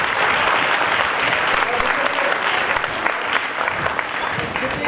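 An audience at a school social drama performance claps loudly and continuously, a dense wash of hands that holds steady and then thins slightly toward the end.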